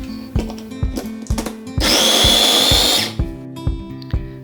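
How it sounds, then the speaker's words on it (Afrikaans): A food processor chops onion, ginger and garlic in one loud, whirring burst of about a second, set against steady rhythmic knocking in the kitchen before and after. "Kerf die eie, gemmer en knoffel fyn in 'n voedselverwerker."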